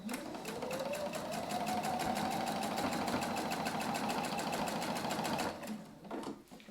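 A sewing machine runs steadily, stitching a quilted travel bag in a fast, even needle rhythm that holds for several seconds before slowing and stopping, with faint fabric handling afterward.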